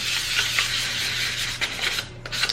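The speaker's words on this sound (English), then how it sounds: "I like to kind of sand in like little circles like this" Steady hand sanding of a plastic tumbler lid in small circles, a continuous scratchy rubbing with slight rhythmic swells, close by and alone.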